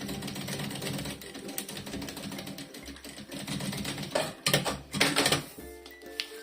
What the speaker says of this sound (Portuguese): minha costura pé de máquina na máquina industrial é meio centímetro, tá bem? E vamos então costurar